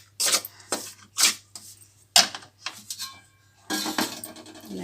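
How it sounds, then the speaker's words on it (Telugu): Fried ragi flour is scraped from a pan into a bowl for laddus, giving a series of sharp metallic scrapes and clinks in uneven bursts, close and fairly loud. "ఇప్పుడు ఇది ఒక గిన్నెలోకి తీసేసుకుందాం."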